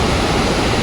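A mountain river rushes below a trail on the Madmaheshwar trek, a loud, continuous broadband roar of flowing water filling the short moment.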